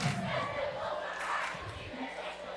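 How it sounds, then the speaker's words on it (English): Excited crowd at a high school basketball game between the Wolves and the Rams, a loud continuous roar of cheering and shouting filling the gym during a timeout, with voices mixed in. "I've been pretty impressed by the crowd and how excited they are."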